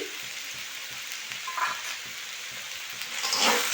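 Spices fry with turmeric and chopped green chili in hot oil, a steady moderate sizzle with soft stirring scrapes and a brief louder hiss near the end.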